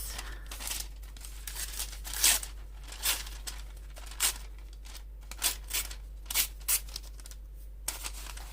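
Paper torn messily by hand for a junk journal page: a series of sharp ripping bursts in an uneven rhythm, close and fairly quiet, with no talking.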